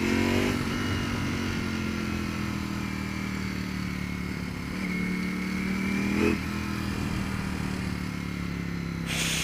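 A 2018 Ducati V4S motorcycle engine under throttle on the road, a loud continuous drone whose pitch dips and climbs as the revs change, with wind rush throughout.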